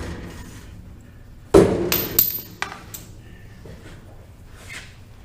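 A few sharp dead blow hammer taps on metal machine parts during a 1969 Charger K-member install, the first loud and followed by lighter ones, with faint ringing and quiet shop noise around them.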